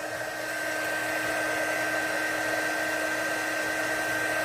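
A hair dryer blows on a ceramic-finish resin casting, making a steady, loud whirring hum with an even airy rush. It runs continuously without pause.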